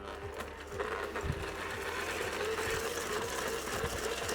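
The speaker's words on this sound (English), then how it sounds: "whisking it with a hand mixer at first helps loosens it up" Electric hand mixer whisking meringue into a keto tiramisu cake mixture, a steady whirring motor hum with rhythmic beater scraping against the bowl, continuous and close.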